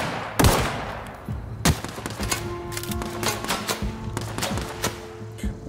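Gunfire in the video game The Outer Worlds: a couple of heavy single shots followed by a rapid, irregular volley of sharp reports, loud and close, with metallic ringing tails.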